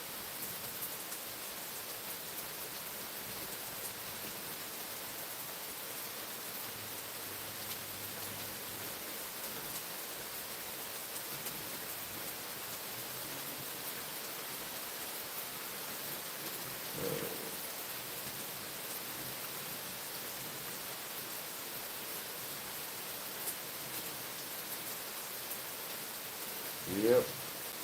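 Steady rain falling on a rainy Sunday morning makes an even, unbroken hiss throughout, with a couple of brief low bumps along the way.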